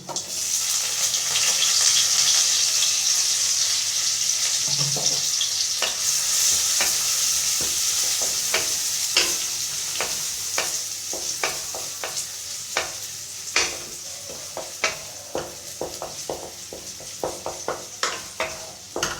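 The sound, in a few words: frying chopped onion and dried chili in a pan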